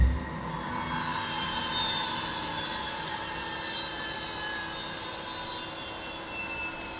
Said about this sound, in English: So, the engine has basically run down.